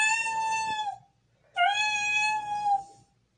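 A smart speaker plays two drawn-out electronic kitten meows, each about a second long with a short pause between, clear and close with no voices.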